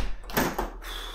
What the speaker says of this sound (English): Oh, right, shut that door.